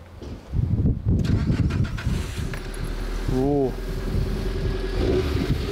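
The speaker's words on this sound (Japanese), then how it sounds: "エンジンかけてみる。" A Nissan Pulsar GTI-R with an overhauled 2.0 turbo engine cranks and starts, catching into a steady close idle, while people talk over it.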